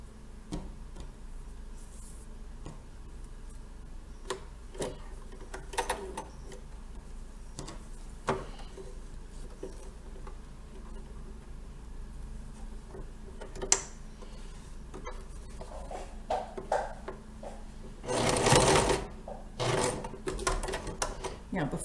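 A sewing machine stitches a fabric face mask with an elastic channel, giving short runs of quick mechanical ticking with a busier burst near the end, heard under someone talking.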